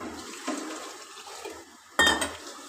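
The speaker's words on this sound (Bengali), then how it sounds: "জল দিয়ে দেবো," Water poured into a cooking pot holding dal and watermelon rinds, a quiet clatter then a sudden loud splash near the end, close up with no talking.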